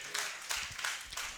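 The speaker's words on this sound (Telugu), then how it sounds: "చప్పట్లు కొడదాం పిల్లారా" Children clap together during a church sermon, a few quick, faint bursts of claps repeating in a loose rhythm.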